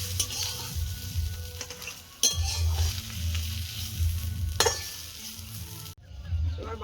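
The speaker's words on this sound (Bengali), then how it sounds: "বিটটা ভাজা ভাজা হয়ে গেছে, এবার নামিয়ে নেব" Beetroot, potato and prawns sizzle steadily in an oiled pan while a spatula scrapes and stirs them in bursts, with occasional clinks of metal against the pan and a brief pause before the frying resumes.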